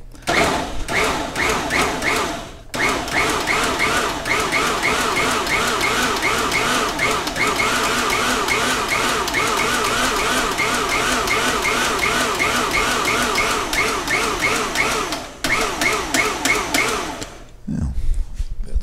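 A food processor runs steadily through sliced green peppers for relish, a continuous loud whirring with rhythmic chopping pulses, broken by brief pauses near the start and end.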